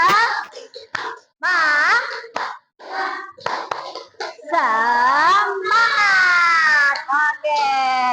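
Schoolchildren in a classroom do a spirit clap, their rhythmic claps mixed under loud, excited chanting and shouting voices that dominate the sound.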